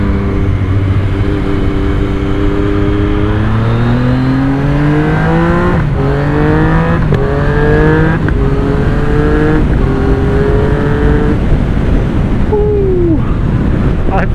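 A brand-new Yamaha MT-09 motorcycle cruises with loud, close engine drone under heavy wind rush, its pitch climbing through the gears and dropping at each shift.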